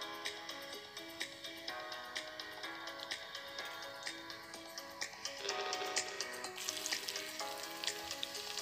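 Tempering spices frying in half a spoon of hot oil for a tomato pickle, giving a steady crackling sizzle with light ticking pops, set against a continuous tonal background hum.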